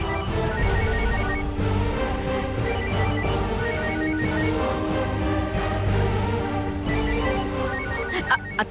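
A phone keeps ringing with a tonal, repeating ringtone during a Marathi TV serial scene, blended with steady background music and no speech.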